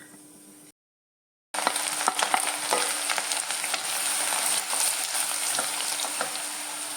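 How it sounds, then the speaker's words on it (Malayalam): Green chillies and curry leaves fry in hot oil for a garlic pickle, a close, steady crackling sizzle that starts after a brief silence and carries on with scattered pops and stirring, with no talk. "അതിലേക്ക് പച്ചമുളകും കരിയാപ്പലയും നല്ലോണം ഒന്ന് മൂക്കട്ടെ."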